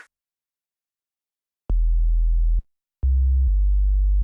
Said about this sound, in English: that sounds a lot cleaner now as the bass notes are no longer overlapping